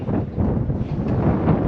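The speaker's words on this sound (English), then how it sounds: "This wind is going to be really tough." Steady wind gusting outdoors beside a dam on a cold February fishing outing, a continuous low roar of buffeting against the microphone with no talk.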